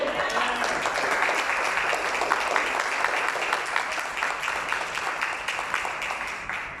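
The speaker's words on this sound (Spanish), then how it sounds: "¿Cuándo dará un fuerte aplauso al Señor?" A church congregation gives a loud round of applause to the Lord, a sustained crowd of clapping hands that stays even and fills the room, easing slightly at the close.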